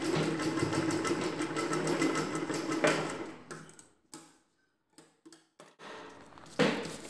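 A sewing machine runs along a folded fabric edge on a chudidar dress, with a long steady whir that breaks into several short stop-start bursts before running on again.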